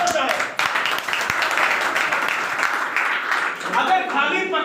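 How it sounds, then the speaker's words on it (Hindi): An audience at a business-plan talk applauds in a dense, fairly loud burst with a voice talking over it. Near the end the clapping gives way to speech. "तालियां"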